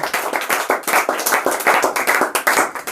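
Students in a Bihar board Class 10 social science quiz class clap together in an offline classroom, a close, loud burst of uneven hand claps with a brisk rhythm and no talking.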